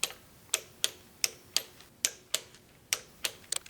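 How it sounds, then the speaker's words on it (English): A wrench works on the bolts of an engine's main seal and makes about a dozen sharp, close clicks. They come in a loosely steady rhythm against a quiet background. "After that, torque them down to 52 inch-pounds."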